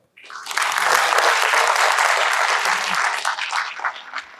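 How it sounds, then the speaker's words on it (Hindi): An audience in a hall applauds at the opening of a session, a sudden full burst of clapping that holds steady for several seconds and then thins out toward the end. "ताली बजा दो यार"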